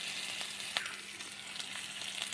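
Ginger-garlic paste with turmeric, chili and cumin powders fries in oil with browned onions for Bali chatur, a faint, even sizzle marked by a few light stirring taps, with no voices.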